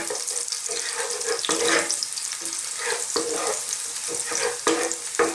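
Garlic sizzles in hot oil in a frying pan for a crispy squid adobo, a loud close crackle broken by scraping stirs and bursts of spatter across the whole stretch.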